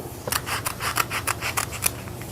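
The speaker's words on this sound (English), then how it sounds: "just cut them lengthwise with the longest, and then I can trim them down if I need to" Scissors snip lengthwise through fabric strips at a longarm quilting table, a quick run of about eight close, crisp cuts with no talking.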